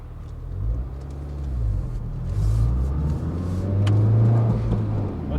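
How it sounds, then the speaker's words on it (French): A youngtimer car's engine rumbles and rises in pitch as it accelerates through first gear, a steady low drone swelling toward the end, heard from inside the car without talk. "quand tu passes la première, tout ça, tu sens que la voiture, elle y va"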